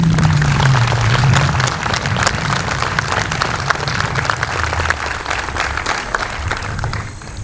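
At a 9/11 memorial ceremony, a crowd gives a sustained round of applause for the day's speakers, loud, dense clapping that continues steadily and eases slightly near the end.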